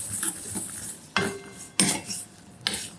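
Salt-coated cashews roasted and stirred in a pan, heard as sharp metallic scrapes and clinks of a spoon against the pan, with several distinct strikes over a low background.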